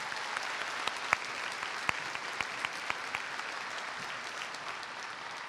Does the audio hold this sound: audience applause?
yes